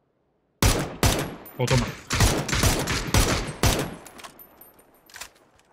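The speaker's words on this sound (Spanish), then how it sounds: "Le disparan desde la izquierda." Gunfire in PUBG: after a moment of silence, a burst of loud, rapid shots, followed by several more volleys in close succession that gradually thin out and fade, with a brief spoken exclamation in between.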